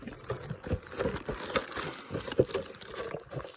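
Plastic bag crinkles and rustles softly as rubbish is folded into it outdoors in New Zealand native bush, irregular crackles and crumples close by and fairly quiet.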